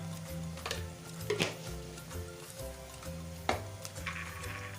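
Kolhapuri masala frying in oil with onions, giving a steady close sizzle with a few sharp stirring scrapes, set against faint background tones.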